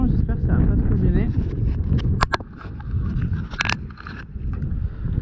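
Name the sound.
wind blowing at a sailboat's bow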